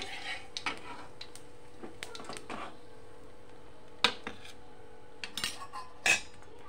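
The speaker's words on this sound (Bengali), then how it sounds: "এখন কালো জিরে ফোড়ন দিয়ে দেবো, নাড়াচাড়া করে নেব।" Black cumin seeds tempering in a pan for a Bengali fish curry, with sparse metallic clinks and taps of a spoon against the cookware scattered over a quiet background hum.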